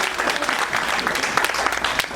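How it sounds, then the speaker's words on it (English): An audience clapping at a Black History brunch, dense steady applause from a crowd, fairly close and continuous with a voice faintly underneath. "clap it up for that"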